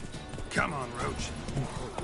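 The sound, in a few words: horse Roach hooves clip-clopping, from video game The Witcher 3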